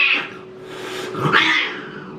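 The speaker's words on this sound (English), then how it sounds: "It's a kitty." A kitten gives a couple of short, close meowing cries, one early and a stronger one near the end, against a quiet room.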